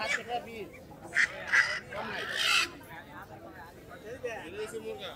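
Ducks quack in short, scattered calls amid a noisy crowd, with people talking nearby at a busy, century-old village market.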